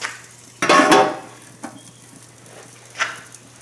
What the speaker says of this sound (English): now we're going to put the lid on